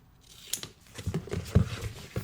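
Scissors cut through packing tape wrapped around a cardboard box. Several sharp, close snips and crinkles come in quick, uneven succession.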